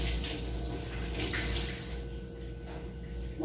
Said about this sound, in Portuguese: deixa eu molhar o paninho